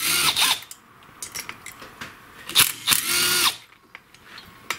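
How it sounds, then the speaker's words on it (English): A power driver whirs in short repeated bursts, backing T27 Torx screws out of the ignition coil on a STIHL FS55 string trimmer, close and loud with brief pauses between spins. "Now get the coil off by removing both screws."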